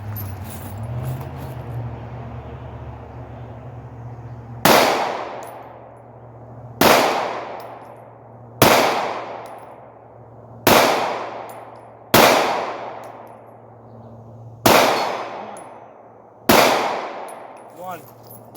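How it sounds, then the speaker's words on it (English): Glock 43 pistol with a red dot fired at steel targets 50 yards away: seven loud, sharp shots spaced about two seconds apart, each with a ringing decay, after a quiet stretch of outdoor hum. "so let's shoot the Glock 43, right?"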